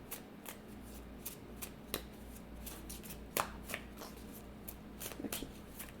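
Tarot or oracle cards being shuffled by hand before one is drawn: soft, rapid riffling and slapping of card edges in uneven bursts, close and quiet, with no speech.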